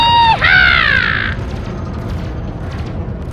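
Spaceship boosters fire in Elite: Dangerous with a loud rising whoosh and bright tonal sweep that lasts about a second, then fade into a steady low engine rumble.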